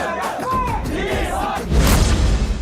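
Darshan fans cheer and shout in a loud crowd outside Veerabhadreshwara theatre in Shivamogga at the early-morning release of the Kannada film Devil, with voices rising into a louder roar near the end.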